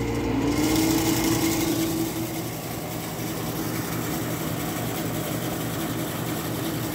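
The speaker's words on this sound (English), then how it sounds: "let's get up close for our compressor sound" An Emerson Quiet Kool air conditioner's compressor runs up close with a steady, droning low hum. A brief rising whine starts it off, and the hum then settles into an even, unbroken tone.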